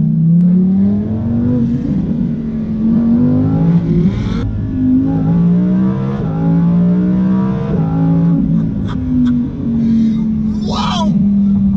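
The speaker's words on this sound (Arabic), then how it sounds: "الانجن ما فيها لا توربوات لا سوبر تشارج واتسو ايفر، ولما ترد غيار تحس ان الموتر يتمضمض" A naturally aspirated Lamborghini Huracan engine revs and climbs in pitch, rising and falling loudly up close, with voices talking over it.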